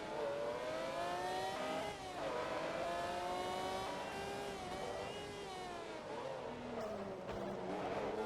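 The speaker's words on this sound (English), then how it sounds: "And the car sounds better now, and I can actually hear it amongst the other cars." Race car engines roar in Forza Motorsport 2 on Xbox 360, several cars revving and shifting continuously with rising and falling pitch, close and loud with no talk.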